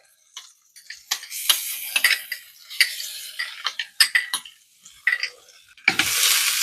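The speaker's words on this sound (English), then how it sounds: "Pan preheated. A little bit of olive oil. A little bit of butter. And I'm going to put in my garlic." Sharp clinks and taps of utensils and a pan come first. Then garlic hits preheated olive oil and butter in a pan, setting off a sudden loud, steady sizzle that lasts to the end.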